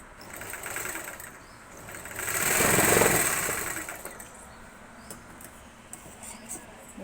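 A sewing machine stitches a prince-cut blouse with a continuous whirring hum that swells louder in the middle and then settles back to a steady close drone.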